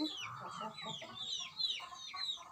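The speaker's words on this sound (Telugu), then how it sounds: "పెట్టలు" Hens clucking in a steady chatter of short, close calls, several birds overlapping without pause.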